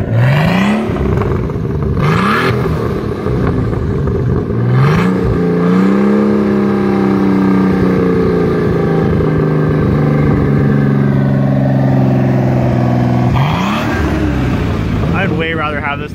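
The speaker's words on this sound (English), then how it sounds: "I get a couple revs out of it." A 1970 Datsun 240Z with a turbocharged L28ET engine swap revs up several times through a custom 2.5-inch stainless steel Fujitsubo exhaust, rising and falling with a loud, raspy note close by, then settles into a steady drone.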